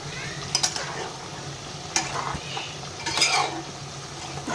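Cashew paste being stirred into chicken rezala in a pan, with a spoon scraping and clinking against the metal over a soft sizzle, close and fairly quiet, with no talking.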